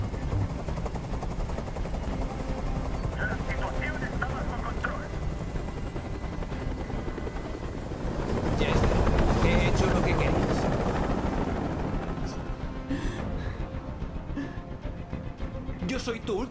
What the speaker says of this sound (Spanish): ¡Dile a ese helicóptero que se vaya de aquí!